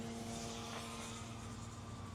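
A V Copter Falcon bicopter drone flies at Dollman Beach Park with a steady, fairly faint motor whine and a constant low hum. Wind or ambient noise runs underneath, and no one speaks.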